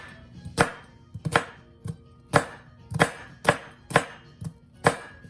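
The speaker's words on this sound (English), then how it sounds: "So let me cut into my red onion here." Knife chopping a red onion on a cutting board, about a dozen crisp, sharp knocks in an uneven rhythm, some in quick pairs, close and clear with no talking.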